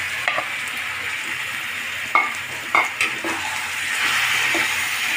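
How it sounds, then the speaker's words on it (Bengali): Onions and chicken sizzle steadily in a pan as a utensil stirs them, with a few sharp scrapes and clinks against the metal, close and continuous, no voices. "পেঁয়াজটা ভাজা হোক ততক্ষণ একটু, তারপরে আমরা মাংসটা এতে দিচ্ছি"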